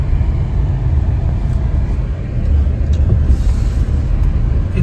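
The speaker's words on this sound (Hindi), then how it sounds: "अभी हम इधर से गाड़ी निकालेंगे" A delivery car detours around a closed road, its engine and tyre noise giving a steady, loud, close rumble throughout with no talking.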